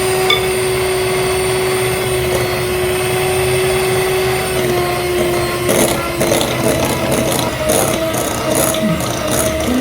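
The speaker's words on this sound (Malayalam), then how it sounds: "മുട്ട ബീറ്റ് ചെയ്യുമ്പോഴാണേലും ഷുഗറും ബട്ടറും ബീറ്റ് ചെയ്യുമ്പോഴും എല്ലാം ഞാൻ 1 സ്പീഡ് ഹൈ സ്പീഡിലിട്ടാണ് ഇത് ചെയ്തിരിക്കുന്നത്" Electric mixer running at high speed, beating eggs into fruit cake batter, with a steady loud whirring motor hum and rattling of the beaters against the bowl that grows busier partway through, heard alone without talk.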